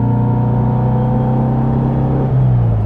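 A performance-enhanced 1957 Porsche 356 Speedster engine drones loudly and close, holding a steady tone before its pitch climbs as it accelerates near the end.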